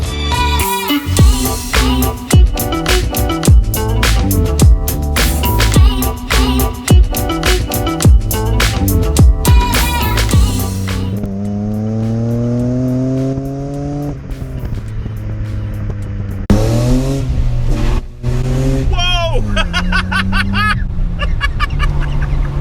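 A BMW E30 with a 2.5-litre M50 engine revs hard and loud from inside the car, climbing and dropping in pitch as it shifts up through the gears.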